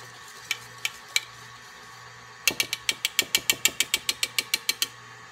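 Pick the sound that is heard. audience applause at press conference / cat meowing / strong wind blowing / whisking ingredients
whisking ingredients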